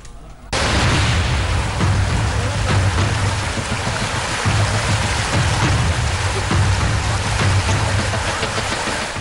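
Steady, heavy rain pouring down with a dense hiss and low rumbling, continuous throughout after a brief quieter start.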